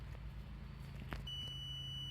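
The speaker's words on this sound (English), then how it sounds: "So as we leave it beeping here in the background" A multimeter continuity tester beeps with a steady high tone that starts partway through, checking a wiring circuit on a Ram Cummins 6.7 diesel with codes P0341 and P0652, over a low background hum.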